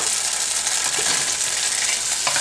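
Lao stir-fried noodles (khaw mee) sizzle loudly in a hot pan as oyster sauce goes in, a steady bright frying hiss with faint stirring scrapes and no talking.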